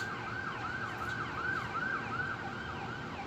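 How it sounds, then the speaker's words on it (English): A wailing ambulance siren cycles steadily up and down at a distance in Duluth, Minnesota, repeating its rising tone over a low traffic rumble, with no talking. "no, that's an ambulance."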